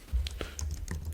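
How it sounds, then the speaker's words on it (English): Quick, light keystrokes on a computer keyboard while a prompt is typed to generate a custom shader, several clicks in a short burst over a low steady hum, no voices. "You can really type here anything you want."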